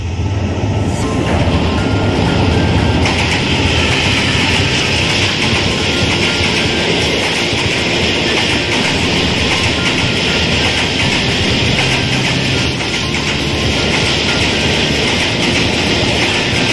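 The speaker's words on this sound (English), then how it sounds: "The train is approaching." A train crossing the Huaykhayung railway bridge in Thailand rumbles past continuously and loudly, wheels clattering on the rails with a steady metallic roar throughout.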